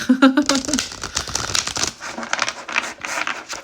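A deck of cards is shuffled close up, a quick riffle of crisp flapping and clicking followed by softer rustling as the cards settle.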